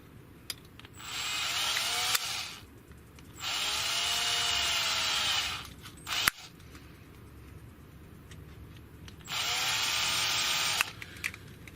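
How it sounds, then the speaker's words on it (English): A power drill whirs in three separate bursts of a few seconds each, close by, drilling holes in an RC model DHC-1 Chipmunk aircraft, with brief clicks and pauses between runs. "We'll just drill them from the other side as well."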